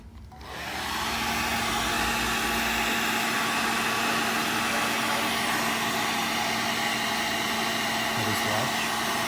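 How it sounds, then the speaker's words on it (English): A hairdryer runs loud and steady, heating resin model parts for a Cryx Skarre miniature. It starts abruptly and holds a continuous whooshing roar to the end. "So now it's gonna get loud again as I use the hairdryer."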